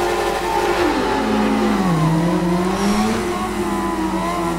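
Simulated 1998 Yamaha YZF-R7 sport bike in the rain-soaked racing game Ride 5, engine revving hard with the rear tyre spinning, pitch dipping then climbing again in a loud, continuous race-track whine.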